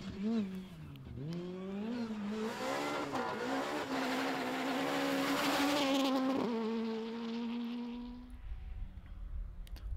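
An Opel Adam rally car drives hard through a round of the Belgian Rally Championship, its engine note rising and shifting through gears, loud and continuous, with a French commentator talking over it.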